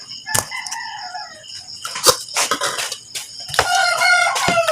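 A rooster crows near dawn in the rural Philippine countryside, loud and close, with a long cock-a-doodle-doo call followed by further crows and clucks against a quiet background.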